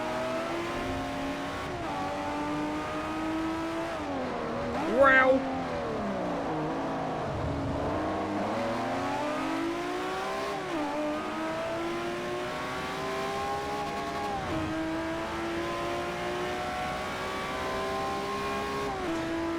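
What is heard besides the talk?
race cars driving in Forza Motorsport 4 video game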